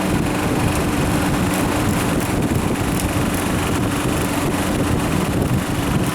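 A weak refrigeration compressor on a milk cooling system pumping, a loud steady mechanical drone with low rumble and broadband hiss, continuous and close with no voices.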